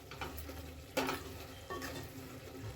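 Methi pulao with fenugreek leaves frying in oil in a pot gives a soft, faint sizzle, broken by a few light scraping stirs.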